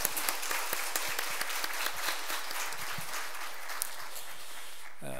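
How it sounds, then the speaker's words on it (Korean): A church congregation gives a loud burst of applause, dense and sustained clapping from many hands, fading out abruptly at the end. "우리 다시 한번 하나님께 크게 영광의 박수를 돌리겠습니다."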